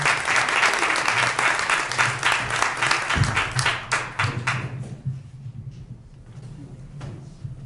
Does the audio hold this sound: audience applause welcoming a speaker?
yes